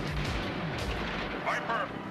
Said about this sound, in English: those are classic Deke explosions right there too